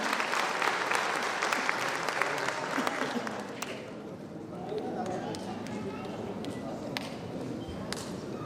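An audience at a cleanliness award ceremony in Varanasi claps loudly for several seconds, then the applause thins to scattered claps while a voice speaks over it.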